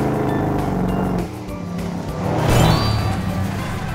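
Red and blue toy trucks drive along with a continuous engine-like hum that dips briefly and then swells louder before settling, with no speech.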